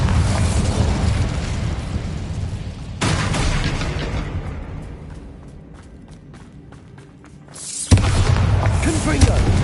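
Bombarda blasting spell in Hogwarts Legacy combat, loud close explosive bursts with rumbling debris, a sudden cut to a quieter stretch, then another sharp blast and renewed booming, with a voice speaking over parts of it.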